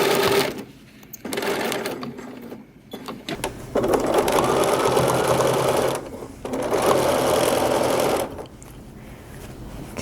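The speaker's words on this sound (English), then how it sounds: "We are sewing on a circle that's kind of enclosed" Sewing machine stitching a neckline seam on a Simplicity 8912 garment, running in steady buzzing bursts of a few seconds each with brief pauses between them for adjusting the fabric.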